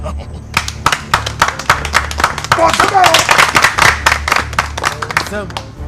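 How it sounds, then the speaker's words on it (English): A group claps for itself at an Asante Twi gathering. The claps are loud and close, the applause is irregular and swells in the middle, and voices talk over it. "Clap for yourselves."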